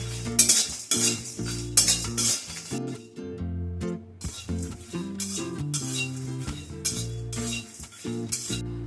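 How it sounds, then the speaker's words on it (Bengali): Whole spices including small green cardamom dry-roasting in a pan, heard as close, busy metallic scraping and clinking of a utensil stirring against the pan, with a faint sizzle underneath and no speech. "মশলাটাকে হালকা করে একটু ভেজে নেব যতক্ষণ না মশলা থেকে সুন্দর একটা গন্ধ বের হয়"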